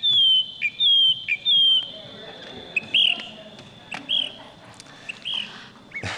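A person whistles an imitation of a nighttime bird call in a talk with a bird guide author, giving a series of high, sliding whistled notes in short bursts, while speech and audience noise break in between them.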